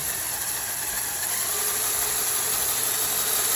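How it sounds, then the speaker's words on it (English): The engine of a custom LEGO RC model runs at higher speed, giving a steady, dense mechanical whir and rattle that holds constant throughout, close and without talk. "I'm going to turn up the speed of the engine here"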